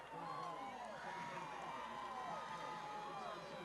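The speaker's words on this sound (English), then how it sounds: "Crowd really getting into this one now." Crowd noise at a high school football game between McEachern and South Cobb, a steady distant roar of cheering voices in a large outdoor stadium, continuous and fairly faint throughout.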